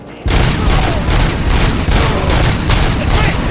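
Heavy automatic gunfire from a firefight in the RoboCop: Rogue City video game, a loud unbroken barrage that bursts in abruptly after a brief quiet moment and keeps hammering without pause.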